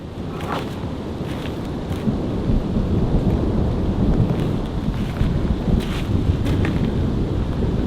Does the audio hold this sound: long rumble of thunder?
yes